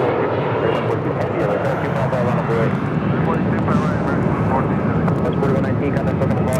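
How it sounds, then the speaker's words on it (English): A JetBlue Airways airliner arriving from Miami lands at LAX, its engine roar loud and steady throughout, with people talking over it. "that is JetBlue Airways 2986 coming in from Miami, Florida in the first mint livery"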